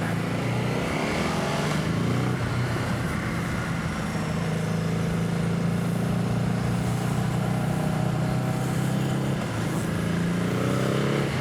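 A Ducati RVE motorcycle with an SC Projects exhaust runs loud and close, its exhaust droning steadily with slight rises in pitch as it revs and cruises along.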